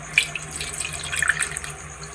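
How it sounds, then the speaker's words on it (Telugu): Water splashes and gurgles steadily into a pot of boiled potatoes, a close, bright running-water sound with small bubbly bursts. "దీంట్లో వాటర్ అయితే వేసుకుందాం"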